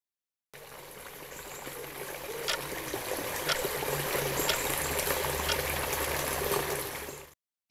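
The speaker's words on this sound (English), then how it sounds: "Here are some chalk streams locally," Clear water in a chalk stream at Ashwell Springs flows with a steady, even trickling rush, close and moderately loud, with no voices, before cutting off abruptly.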